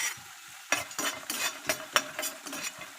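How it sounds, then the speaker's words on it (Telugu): Cashews and almonds frying lightly in ghee in a pan, a soft steady sizzle broken by several sharp scraping stirs of a spoon against the metal, close and fairly quiet, with no talking. "ఈ డ్రై ఫ్రూట్స్ వేయించుకునేటప్పుడు నెయ్యి వేసి వేయించుకోవాలి"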